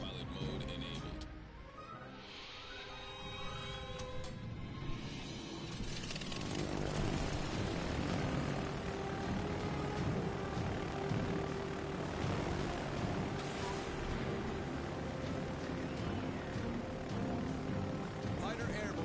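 A fighter aircraft flies in the World of Warships Legends naval battle game, with a steady, loud engine drone that swells after a few seconds and holds, mixed with game effects.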